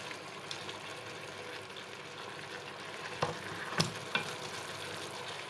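Chicken thighs fry in a pan over medium heat, a steady soft sizzle broken by a few sharp clicks and scrapes as the pieces are stirred, with no talking.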